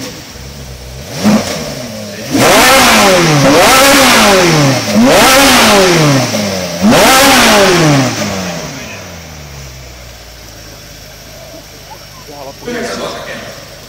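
A Ferrari 458 Italia's 4.5-litre V8 is revved hard four times in a row at an auto expo, each sharp rise and fall loud and close, followed by a quieter idle and a brief final blip.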